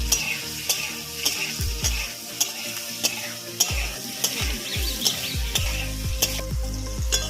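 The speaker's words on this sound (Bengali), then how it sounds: "আলুটা ভেজে নেব। অল্প লবণ দিলাম, অল্প একটু হলুদ দিলাম," Potato pieces fry in oil with salt and turmeric in a kadai, a steady sizzle punctuated by repeated sharp scraping strokes of a spatula stirring them.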